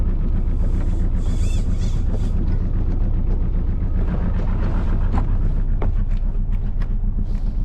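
A boat engine idling while recovering a lost anchor, a loud continuous low rumble with steady throb and wind buffeting on the microphone, no talking.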